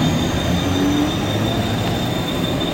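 A continuous rumble of a Mumbai local train to Kalyan at a station platform at night, with faint squealing tones and a steady hum, fairly loud and unbroken.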